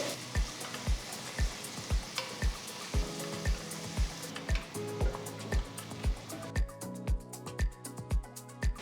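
Chopped carrot, beans and fresh peas sautéing in a pan, with a soft steady sizzle under a regular, thumping rhythmic beat that runs throughout at a low level.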